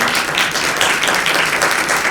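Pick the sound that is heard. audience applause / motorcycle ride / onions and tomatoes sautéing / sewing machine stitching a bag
audience applause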